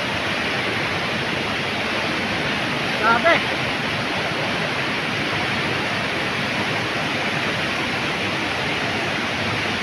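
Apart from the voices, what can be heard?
rushing floodwater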